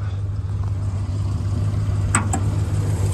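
A 1977 Ford Ranchero with the optional 351 V8 idles steadily nearby, a low continuous rumble with a constant drone and two brief sharp clicks near the end.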